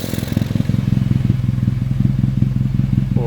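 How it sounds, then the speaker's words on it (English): A turbocharged Honda CR-V engine running through a custom-fabricated exhaust, rumbling loud and close with a fast pulsing throb and light revving, with no talk over it. "Rev it up just a little bit."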